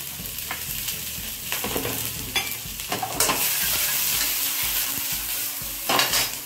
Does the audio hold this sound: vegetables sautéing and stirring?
yes